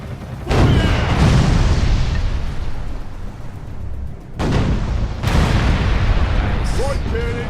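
Ship cannons firing in the VR naval game Furious Seas, a loud booming blast followed by a long rumbling roar, then a second heavy burst, with voices talking over the battle.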